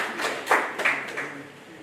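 A small meeting crowd clapping briefly, a few scattered bursts of hand claps close by that fade out within a couple of seconds, with faint voices underneath.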